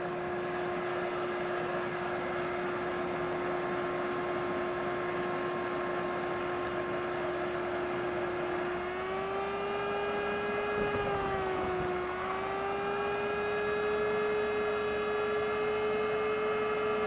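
A shop vac runs while vacuuming a lake bottom, giving a steady, close motor drone whose pitch dips briefly and then recovers as the suction load shifts.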